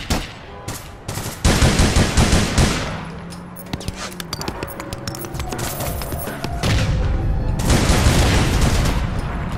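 Loud, dense gunfire in APB Reloaded in bursts and sustained volleys, with a booming impact midway and continuous rattling shots near the end.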